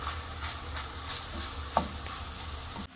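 Sausage browning in a hot pan, a steady close sizzle throughout with occasional stirring scrapes and one sharp clack near the end, then an abrupt cut.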